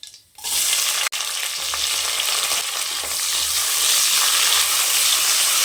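Onion goes into hot oil already crackling with mustard seeds and dal for tomato rice, and a loud, close, continuous sizzle swells and holds, with one sharp click near the start and no talking.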